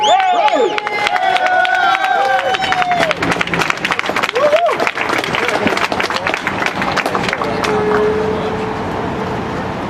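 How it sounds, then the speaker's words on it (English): A crowd at an outdoor End the Fed rally in Philadelphia in 2012 bursts into loud, sustained applause and cheering for a speaker, with whistles and shouts mixed into the clapping before it gradually fades. "Give him a huge round of applause."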